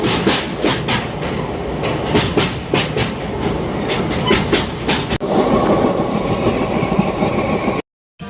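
Steady rumble of a train running on rails on a Warangal to Tirupati journey, heard from inside the carriage, with rhythmic clicking from the wheels throughout and a brief cut-out near the end.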